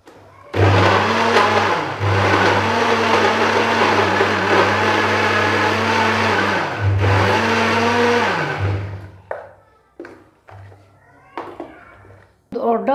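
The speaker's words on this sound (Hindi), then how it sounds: "और फिर स्ट्रॉबेरी को ग्राइंड करती हूँ।" A kitchen blender grinds strawberries for a strawberry-banana milkshake, running loud and steady in two long bursts with a brief pause, then stopping, followed by scattered clinks and someone speaking briefly.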